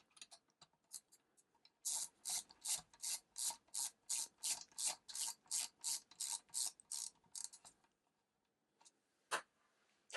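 A LIFEGOO 74-in-1 magnetic ratcheting screwdriver drives a screw back in with a long, steady run of quiet, close ratchet clicks, about two per second, then a few scattered clicks as it stops.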